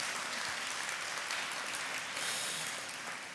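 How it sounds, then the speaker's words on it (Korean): An audience at a lecture on Don Quixote applauds in a dense, continuous wash of clapping that stays steady and fairly loud throughout, with no speech over it. "여러분 박수."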